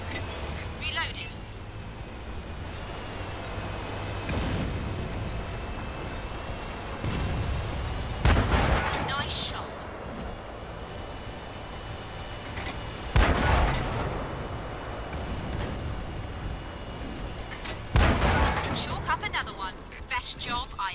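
Warship main gun in a naval combat video game firing three heavy booming shots spaced about five seconds apart, with explosive bursts, over a constant engine drone and occasional talk.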